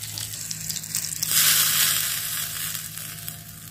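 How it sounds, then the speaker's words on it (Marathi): Whole cumin seeds and green chilli pieces hit very hot oil and burst into a loud, bright sizzle after a quieter start, then the crackle gradually fades. No one speaks over it. "तेल कडक तापलं, अख्खे जिरे टाकले, मिरचीचे तुकडे."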